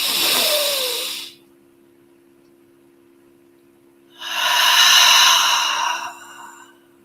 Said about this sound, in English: One last time, inhaling through the nose.